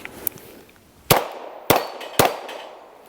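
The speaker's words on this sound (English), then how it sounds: "Let me just take some shots on it and see how it does." A Girsan 2311 Match double-stack 9mm pistol fired at steel plates outdoors, three loud sharp shots spaced roughly half a second apart, each with a short ringing decay, after a few faint clicks.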